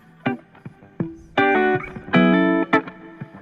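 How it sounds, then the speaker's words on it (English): Recorded guitar riff played back in Ableton, a run of plucked and sustained distorted notes and chords with short gaps between phrases, close and fairly quiet, with no talking. "I came up with a riff and I came in and recorded it and it sounded like this."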